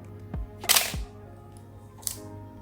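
Canon AL-1 QF 35mm film camera set to a fixed shutter speed: a few crisp mechanical clicks and a snappy shutter release, close-up and isolated in a quiet room.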